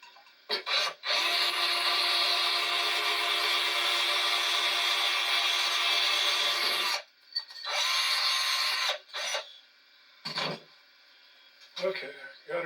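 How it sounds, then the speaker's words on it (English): A small drill spinning an 1/8 inch bit into a center-punched hole on a part from a 1958 Williams Short Stop machine, one long continuous whirring grind of about six seconds, then several short bursts separated by pauses. "Got it center punched, so I put an 1/8 inch drill in."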